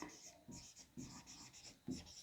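A pen scratches across paper in short, quiet strokes while someone works through a maths exercise, giving soft, close scribbling in bursts with brief pauses and no speech.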